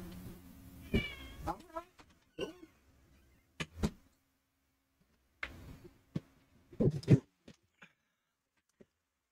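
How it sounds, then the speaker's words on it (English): A cat meows to be let out of a room, giving several separate meows and short bursts of cries with gaps between them, close and fairly clear. "My cat wants out of my room."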